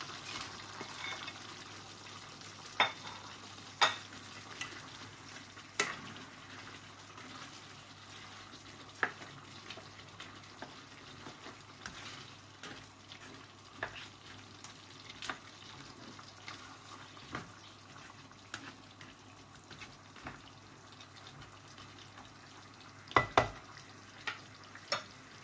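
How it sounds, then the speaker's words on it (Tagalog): Shrimp cook quietly in a pan for ginataang hipon at sitaw, a faint steady sizzle broken by occasional sharp clinks and scrapes of a utensil. "Lagay po natin ang ating hipon"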